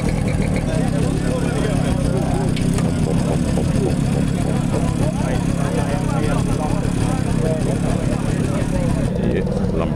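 Small two-stroke scooter engines, Lambrettas and Vespas, idle together nearby at a two-stroke enthusiasts' day in Moergestel, a continuous buzzing, popping drone with a crowd murmuring underneath.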